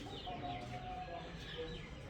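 A hen clucking on a farm: faint, soft clucks and low murmurs over a quiet background hum, brief and steady throughout.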